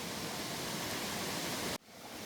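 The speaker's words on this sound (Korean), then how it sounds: "여기는 대한민국에서 제일 많이 있는 와룡폭포" Waryong waterfall in South Korea, a constant dense rush of falling water heard close and steady, which cuts off abruptly near the end and gives way to quieter background.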